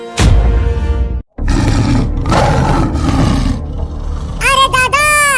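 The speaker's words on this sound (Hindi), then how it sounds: "फिर से शेर की दहाड़ने की आवाज आई।" A lion roars loudly and repeatedly in a staged comedy sketch, the roars filling most of the stretch, broken by a brief silence and ending with higher squealing cries.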